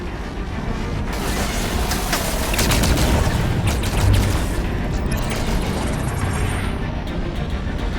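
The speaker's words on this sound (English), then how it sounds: "Watch the fire from those turrets!" Turret fire rattles on in Halo 5: Guardians: dense, loud, continuous gunfire with booms and mechanical clatter throughout.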